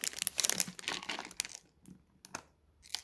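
Crinkly plastic wrapping is crumpled and torn open up close, loud rustling bursts that thin out into a few short crackles.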